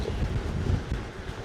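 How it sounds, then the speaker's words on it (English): Strong wind buffets the microphone of a cyclist riding downhill at Ogmore-on-Sea, a steady rough rumble with no talking. "This wind is mad."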